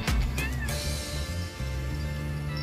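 A cat meows over loud, droning background noise, with a tonal hum running throughout.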